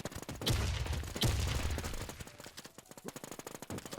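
Video game gunfire in rapid bursts, dense cracking shots rattling in quick succession at first, then thinning to a spaced, clipped series of single pops, loud and close with no voice over it.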